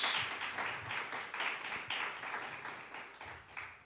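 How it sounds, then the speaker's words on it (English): Audience applause for the sponsors of the Lift Every Voice lecture series, a steady wash of many hands clapping in a hall, moderately loud and sustained throughout with slight swells. "give a round of applause for our sponsors"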